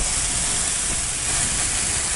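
Moong dal dosa batter spreads across a lightly oiled tava with a loud, continuous hissing sizzle, broad and steady the whole time, with no voices.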